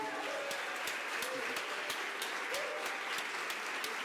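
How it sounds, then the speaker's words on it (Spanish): Applause from an audience at an academic expert panel, a steady, moderately faint patter of clapping that fills the room, with a voice speaking briefly beneath it. "creo que este aplauso es para todos"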